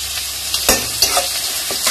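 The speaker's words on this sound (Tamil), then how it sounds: "இப்போ ஆனியனையும் போட்டு நான் நல்லா வதக்கிக்கிறேன்." Onions frying in oil with mustard seeds and urad dal for a Tamil masala sundal snack, a steady sizzle broken by a few scrapes of a stirring spoon, close and fairly loud with no talk.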